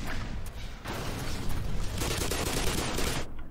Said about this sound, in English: that definitely sounds like a turret or something